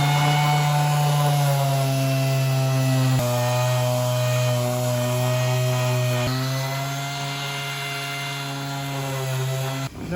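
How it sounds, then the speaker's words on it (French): An orbital sander working wood with coarse 80-grit paper in a factory workshop: a steady, loud, close mechanical whine and drone with a rough sanding hiss, running continuously with brief shifts in pressure. "c'est à la ponceuse vibreuse d'abord, et puis après on va finir à la main"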